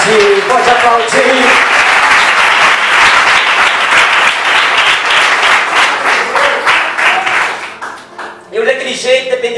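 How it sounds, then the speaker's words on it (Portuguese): A church audience applauds at a testimony service, steady dense clapping filling most of the stretch before thinning out, with voices and a few tonal sounds near the start and end. "Pode aplaudir, pode aplaudir."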